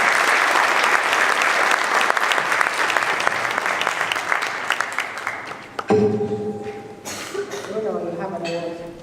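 Audience applause at a talk on sponsorship activation, dense clapping filling the room for about six seconds before thinning out, followed by scattered claps and voices talking.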